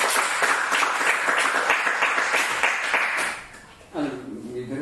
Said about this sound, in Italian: Beh, intanto devi fare un applauso.